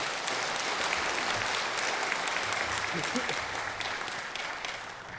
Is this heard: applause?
yes